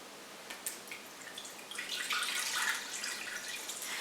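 Whole milk pours from an opened gallon jug into a Ninja Foodi slow cooker, a few light drips followed by a soft, steady splashing stream that builds and holds.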